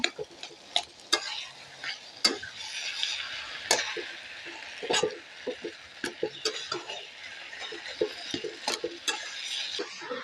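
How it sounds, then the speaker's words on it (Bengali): Taro leaves fry and sizzle in a pan while a spatula stirs them, scraping and clacking against the metal in steady, close strokes over a constant hiss. "এই কচু শাকটাকে ভালো করে নাড়াচাড়া করে অনেকক্ষণ ধরে জাল করে নিয়েছি"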